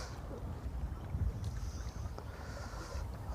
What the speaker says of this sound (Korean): 바람이 엄청 부는데